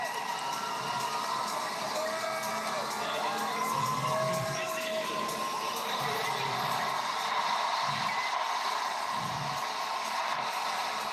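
A large crowd at a gymnastics competition cheers and shouts in a steady, dense roar that holds throughout, with brief louder swells.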